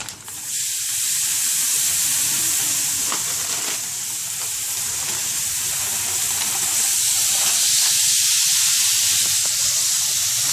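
Shrimp frying in olive oil in a greased skillet, giving a steady, close, loud sizzle and hiss with occasional soft stirring scrapes and no talking.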